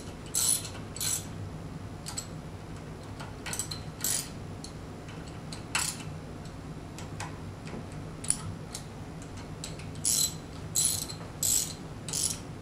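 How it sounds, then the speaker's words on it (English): Ratchet clicking in short bursts while tightening the outer eight bolts of an Arimitsu 5 Series pump head in a cross pattern, close and crisp with pauses between sets of strokes. "Again, in a cross pattern, tighten the outer eight bolts."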